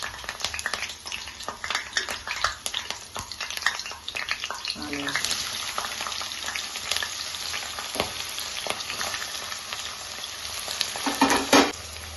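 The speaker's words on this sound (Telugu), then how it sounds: "ఆయిల్ హీట్ అయింది. ఇప్పుడు దీంట్లో పచ్చిమిర్చి వేసుకుందాం." Green chilies fry in hot oil in a kadai with a steady, close crackling sizzle, punctuated by scraping stirs and a louder spitting burst near the end, with no talk.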